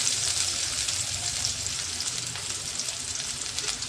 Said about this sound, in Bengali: কড়াতে তেলটা গরম হয়ে গিয়েছে। এই পর্যায়ে আমি দিয়ে দিলাম হচ্ছে একটুখানি পেঁয়াজ আর কিছু থেতো করা রসুন।